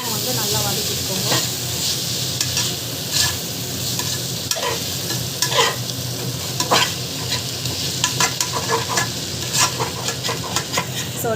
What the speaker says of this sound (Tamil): இப்போ வந்து டமாட்டா வந்து ஆட் பண்ணலாம். வந்து நல்லா வதக்கிக்கோங்க.